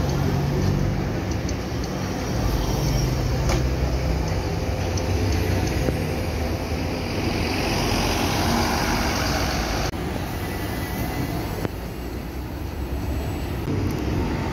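A new Millennium 5 city bus on line 259 in São Paulo pulls away from São Miguel with a steady, close engine rumble and a continuous roar of road noise, and no talking.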